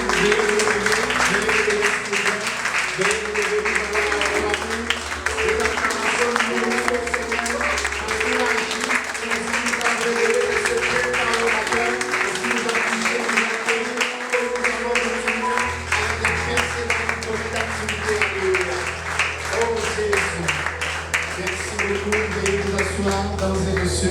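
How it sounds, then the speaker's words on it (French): A gospel business breakfast audience in Togo applauds loudly and steadily, a dense continuous wash of clapping that holds for the whole stretch, with voices mixed in underneath. "Est-ce que nous pouvons acclamer très fort?"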